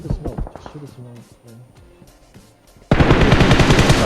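Gunfire in the mobile battle-royale game PUBG Mobile: a quick burst of shots opens, scattered single shots follow under a man's speech, then a sustained loud rapid automatic volley fills the end.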